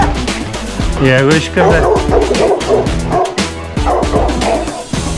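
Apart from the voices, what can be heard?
dog barking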